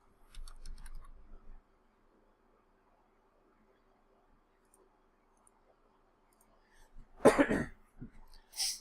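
A sharp, loud cough bursts out after a long quiet stretch, preceded by faint keyboard clicking and followed by a softer trailing cough.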